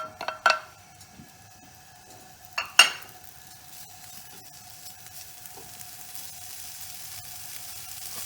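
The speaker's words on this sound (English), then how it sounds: "Now I want to start do the bacon first." Bacon goes into a pan with no oil over medium-low heat. Two sharp clanks of the pan are followed by a faint sizzle that slowly builds, heard close and alone.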